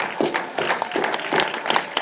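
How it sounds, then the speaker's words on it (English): Steady applause from a large corporate event audience, with dense claps in rolling waves and faint crowd noise beneath. "Give yourself a very, very, very big round of applause, ladies and gentlemen"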